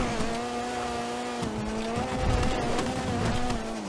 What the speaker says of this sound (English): This car sounds crazy while you're driving.